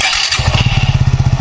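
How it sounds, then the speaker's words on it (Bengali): A motorcycle is started with its self-start: a brief whir, then the engine catches into a fast, even run of close, loud exhaust thumps. "বাইকটা আমি স্টার্ট দিলাম।"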